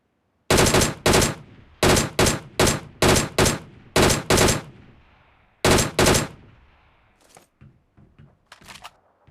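Gunfire in the mobile battle-royale game PUBG Mobile, a loud, close burst pattern of about a dozen sharp shots in quick pairs and singles, followed by fainter scattered distant shots trailing off.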